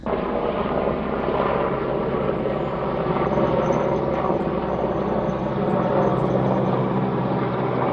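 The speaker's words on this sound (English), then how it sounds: "And here comes the helicopter." A helicopter flying overhead gives a steady, loud rotor drone that fills the whole stretch, a continuous thrumming roar that stays close and constant throughout.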